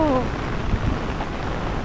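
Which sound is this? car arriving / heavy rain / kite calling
heavy rain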